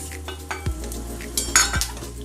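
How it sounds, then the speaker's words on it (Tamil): Coriander seeds, peanuts, black pepper, cumin and red chillies fry in a pan for a broccoli gravy, with a steady close sizzle and a few scrapes and clinks of a stirring spoon against the pan. "நம்ம நல்லா ஃப்ரை பண்ணி எடுத்துக்கலாம்"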